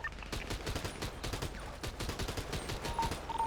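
Rapid bursts of gunfire in the video game GTA, a dense string of sharp cracking shots fired in quick succession, moderately loud and continuous without speech.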